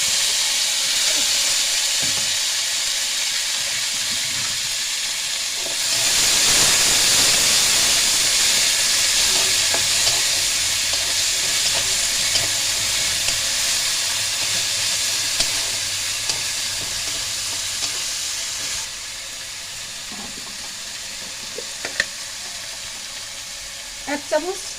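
Onion, garlic and chili hit hot oil already frying whole dried chilies for a Bengali pangas fish curry, a loud steady sizzle that surges when the ingredients go in, then eases, with occasional clinks near the end.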